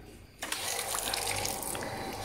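Water begins trickling from the outlet of an old, weak water pump after a short quiet pause, then runs as a steady, soft, hissing flow with faint mechanical ticking behind it.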